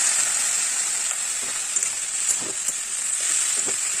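Lotus stem pieces fry in a pan of hot oil with turmeric, a loud continuous hiss and sizzle with occasional soft stirring knocks, close up and without talk.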